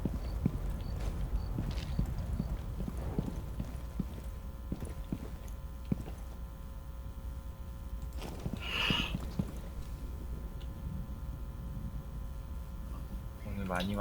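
Footsteps in a video game, heard as faint, irregular taps spread across the stretch, partly masked by people talking over them.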